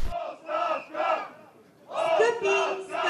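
Crowd chanting in rhythmic bursts at a public speech in Veliko Tarnovo, with rising shouts and whistles between waves of voices, moderately distant.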